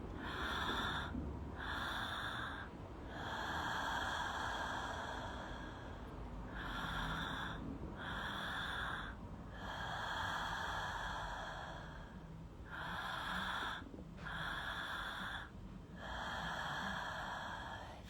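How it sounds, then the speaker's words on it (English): Slow, long mouth exhales during a guided breathwork session, repeating in a steady rhythm of breathy releases with short pauses between, close and fairly loud throughout with no talking. "Slow, long release through the mouth on that exhale."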